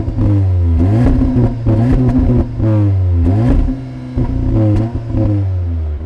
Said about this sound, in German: wir lassen mal ganz kleines bisschen mal den Auspuff sprechen, dass wir das mal haben, dass wir mal den Sound mal sehen für alle Fans